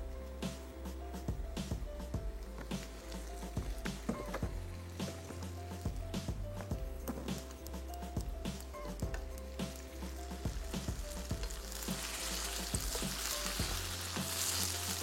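Onions fry in golden sunflower cooking oil in a pan, a steady dense sizzle and crackle with occasional scraping stirs, close and continuous throughout.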